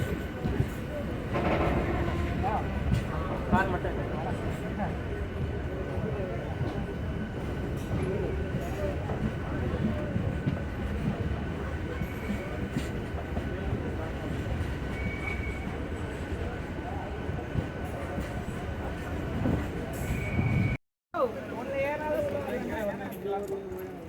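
A passenger train on the Tambaram to Tiruvannamalai line rolls away from Tirukkoilur station with a loud, continuous rumble and rattle of wheels and carriages, broken by a brief dropout near the end.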